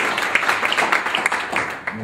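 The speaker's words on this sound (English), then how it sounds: "let's give our speaker one last round of applause, Colin." Applause from an audience thanks a speaker at a talk, brisk clapping with distinct individual claps standing out, a short burst that fades near the end.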